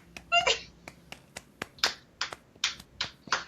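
About a dozen crisp finger snaps ring out close to the microphone in a quick, uneven flurry, offered as applause, with no talk over them.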